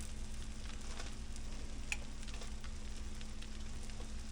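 A cheesesteak sandwich sizzles on the grill with its bread toasting and cheese melting, a constant crackling hiss with faint ticks over a low steady hum, no voices.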